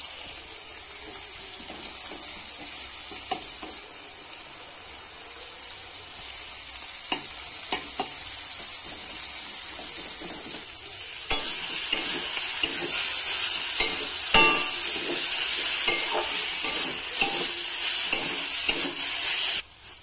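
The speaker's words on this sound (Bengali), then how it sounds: "এবার এর মধ্যে আমি অল্প তেল দিয়ে দেব, দিয়ে রসুন কুচি, লঙ্কা কুচি আর পেঁয়াজ কুচিটা দিয়ে শাকটা ভেজে নেব।" Leafy greens fry in a little oil with chopped garlic, chili and onion at a home Christmas picnic feast, giving a continuous close sizzle with repeated stirring scrapes. The sizzle grows louder midway and then cuts off abruptly.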